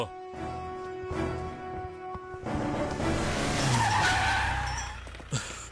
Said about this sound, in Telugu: ఏంటి సార్ సడన్ గా బండి ఇక్కడ ఆపేశారు?